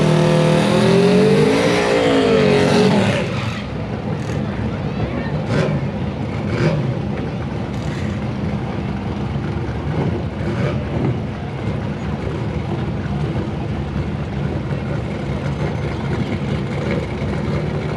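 A black pickup truck blasts off on a drag strip, its engine roaring loud and near before fading into a distant drone as it runs down the track, with crowd and track noise behind.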